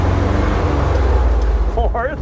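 A 1971 Dodge D700 ramp truck engine runs loud and close, droning steadily as it pulls through the gears, with a voice briefly audible near the end.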